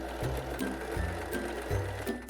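A Singer Start 1306 domestic sewing machine stitches a large zigzag, three quick bursts of rhythmic mechanical chattering heard up close with no talking.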